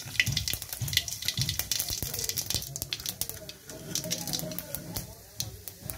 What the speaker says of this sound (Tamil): எண்ணெய் ஊற்றியாச்சு, கடுகு போடலாம்.